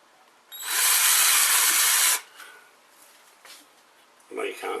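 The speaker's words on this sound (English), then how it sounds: "you can hear the drill" Power drill boring holes at each end of a workpiece in a workshop, one loud continuous whir lasting about a second and a half, then quieter shuffling and a faint voice.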